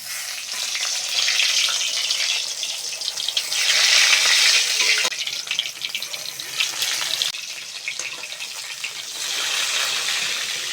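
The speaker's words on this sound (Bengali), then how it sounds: "বাকি বেগুনগুলো একইভাবে ভেজে নেব" Eggplant slices fry in deep oil, giving a loud, continuous close-up sizzle and crackle that swells and eases, with no talking.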